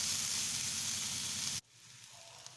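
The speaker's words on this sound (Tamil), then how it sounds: "இப்போ நல்லா வதக்கி விட்டுக்கலாங்க. இந்த வெங்காயம் வதங்க அது நல்ல ஒரு ஃப்ளேவர் கிடைக்கும்." Onions and curry leaves sizzle loudly in hot oil in a pan for bitter gourd fry, a dense close crackle that cuts off abruptly partway, leaving faint light clicks.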